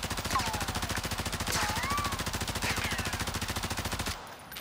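Automatic gunfire on the firing range in Warzone 2, a fast, steady stream of rapid shots that runs for about four seconds before stopping short.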